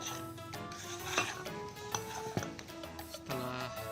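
Donut dough ingredients and water being stirred in a bowl for a bakery practical, with steady scraping and clinking of utensil against the bowl, irregular knocks and taps over sustained tonal background music, fairly close and moderate in level.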